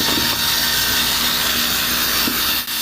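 A yellowed car headlight on a cheap auction Jeep being wet sanded by hand with sandpaper, a loud continuous back-and-forth rasping scrub, close up and steady, with a brief pause near the end.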